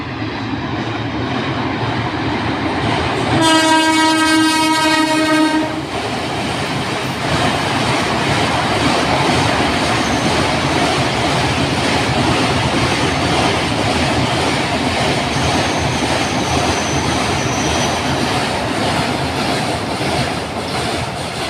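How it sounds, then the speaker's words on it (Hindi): A train passes at Bengali Ghat with a steady, loud rumble and clatter of wheels, and a sharp tonal whistle blast lasts about two seconds early on before the rolling noise continues throughout. "गाड़ी बुला रही है, सीटी बजा रही है, आपको हर बार सुनाई देगा जब भी हम बंगाली घाट पर होंगे।"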